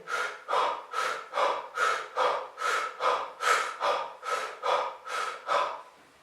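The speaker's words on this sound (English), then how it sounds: "1 minute of breathing from here, making sure I use the diaphragm." Deep diaphragm breathing in a Wim Hof style, about fourteen forceful breath cycles in a steady rhythm, close and loud with no talking.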